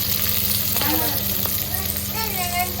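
Onion frying in a pan while mutton is cooked sizzles in a constant crackling hiss, with a few scraping stirs and faint voices talking in the background.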